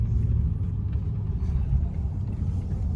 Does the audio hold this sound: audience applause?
no